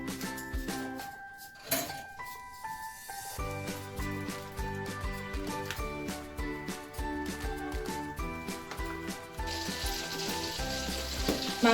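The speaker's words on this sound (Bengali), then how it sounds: "মাংসটা ম্যারিনেট করে রেখে বিরিয়ানির জন্য আলুটা ভেজে নিচ্ছি।" Potatoes fry in oil for a mutton biryani in a home kitchen, giving a steady, continuous sizzle. Sustained tonal sounds run underneath the whole time, and the hiss brightens near the end.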